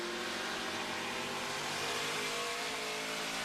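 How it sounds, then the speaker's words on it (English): A race truck engine revving under throttle on track at the 2024 Liuna! 175, a steady, dense high-pitched drone heard from onboard with no talk. "Listen to that throttle, Mike"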